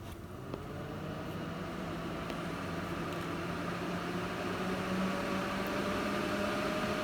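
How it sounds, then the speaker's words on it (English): Corsair PC case fans spinning up under a load test give a steady, loud whooshing hum. A low motor tone slowly rises in pitch as they speed up, with no talk over it. "I've got another one of the Corsair fans in the back. These things, when they spin up, get pretty loud."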